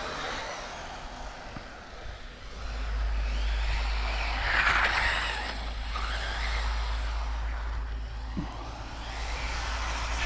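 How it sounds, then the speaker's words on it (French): An MJX DS3 RC car running on a track with a 3S 2200mAh LiPo, its tires squealing and skidding as a steady motor whine rises midway and holds, fairly close and with no talk. "les pneus ils commencent à cuiner"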